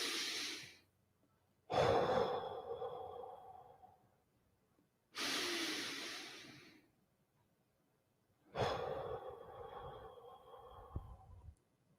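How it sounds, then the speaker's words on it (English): Three slow, deep breaths, each a long rushing inhale or exhale of several seconds separated by quiet pauses, close to the microphone with nobody talking, as in a calm deep-breathing exercise. "You've heard about the 10 deep breaths."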